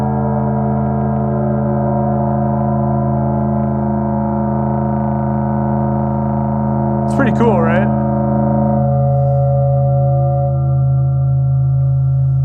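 A sustained, thick synthesizer drone of layered, slightly detuned tones that beat against each other, with a brief spoken line partway through.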